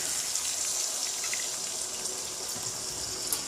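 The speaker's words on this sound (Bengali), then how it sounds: "এবার একটু জল অ্যাড করছি" Water poured into a pan of egg curry, a steady close hiss of running liquid with no pause.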